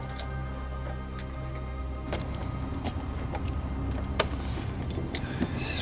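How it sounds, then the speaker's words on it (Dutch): A large, heavy key jangles and scrapes as it turns in a lock at night behind the scenes at a zoo, with close metallic clicks and rattles over a steady low hum, and a few sharper clinks near the end. "Draaien met je sleutel."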